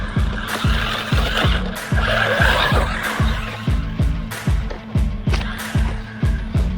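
A 1/16 scale SG1610 racing drift truck driving off-road, its small motor whirring in a fast, repeating pulsing pattern with scratchy surface noise, close and fairly loud.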